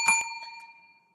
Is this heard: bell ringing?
yes